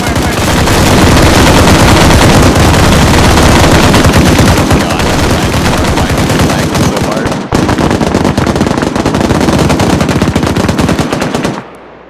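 Sustained, very loud automatic gunfire in an SCP video game, a dense continuous barrage from several guns with one brief break, cutting off abruptly at the end, with voices faintly mixed in.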